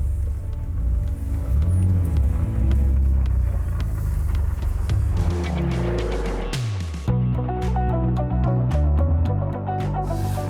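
A manual Ferrari 599 GTB V12 with a Tubi exhaust revs and roars up through the gears, pitch climbing and dropping with a loud, throaty exhaust note close by.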